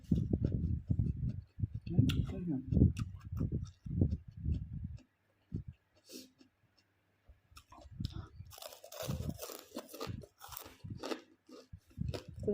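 A large caterpillar chews vegetable leaves, giving close, quiet bursts of crunching and soft biting, with a brief pause midway and a faint voice or two in the background.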